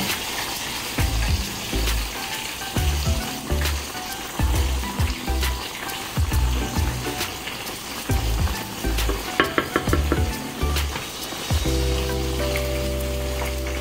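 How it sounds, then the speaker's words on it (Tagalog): Saluyot leaves cooking in a pan while being stirred, a continuous sizzle and frying crackle broken by repeated scraping strokes of the utensil, fairly close and prominent. "Imimix lang natin ito guys. Para maluto yung nasa ibabaw."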